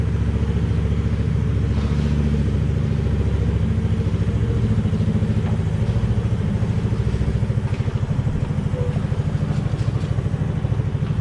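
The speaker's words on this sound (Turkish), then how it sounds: "Yani tam 10 dakika gaz koluna dokunmadan motoru rölantide" A Motolux Mtx 125 motorcycle idles indoors, its exhaust turned toward an open door, giving a continuous even putter with a fast regular pulse and light mechanical clatter.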